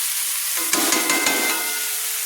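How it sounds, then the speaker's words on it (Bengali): Boiled banana flower stir-fried with spices in a hot pan, a steady close sizzle with a few sharp stirring scrapes partway through. "সেদ্ধ করে রাখা মোচা দিয়ে আমি একটু ভালো করে কিন্তু মশলার সঙ্গে কষিয়ে নিয়েছি।"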